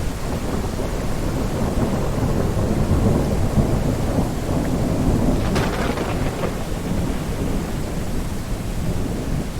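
Video game thunderstorm with steady heavy rain and a deep rolling thunder rumble, plus a sharper crackling strike near the middle, continuous and fairly loud throughout.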